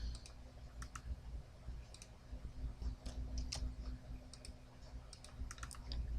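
Mouse clicks while copying and pasting lease details from an MLS listing into forms on a computer: sparse, sharp, close clicks in small clusters over a steady low hum, with no talk.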